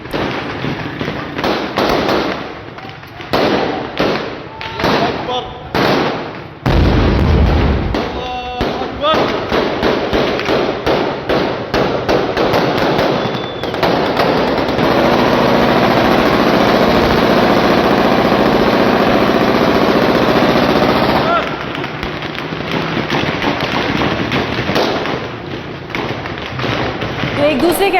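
Heavy gunfire from clashes between Druze and Bedouin fighters in Syria: dense, rapid volleys of shots and dull thuds roll on almost without a break, with voices audible underneath.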